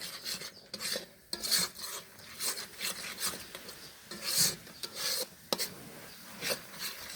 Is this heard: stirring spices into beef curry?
yes